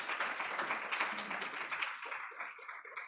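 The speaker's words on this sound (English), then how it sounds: "Can we please clap hands for her as she comes on stage?" A conference audience at an internet governance forum applauds steadily as a speaker comes on stage, a dense, even wash of clapping that thins slightly toward the end.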